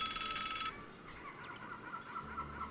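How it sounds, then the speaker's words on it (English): A telephone rings with a steady, bright electronic trill that stops abruptly under a second in, leaving quiet room tone and faint background noise. "That's the phone again."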